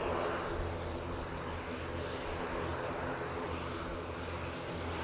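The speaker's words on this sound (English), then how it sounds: "Etihad is just coming past the tower now." An Etihad airliner rolls past the control tower at Manchester Airport, its jet engines a faint, distant, steady roar that holds evenly throughout.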